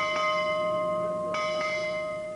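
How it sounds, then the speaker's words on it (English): A ship's bell rings at a naval ceremony in Hong Kong, two clear metallic strikes a little over a second apart, each leaving a long, steady ringing tone that slowly fades. "The bell was rung to mark the end of the final watch."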